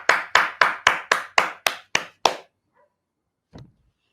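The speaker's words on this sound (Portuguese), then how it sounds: "vamos aplaudir a prof. Michele" Applause at an education event on artificial intelligence in schools, heard as about nine sharp, evenly spaced claps close to the microphone, then silence and one faint later tap.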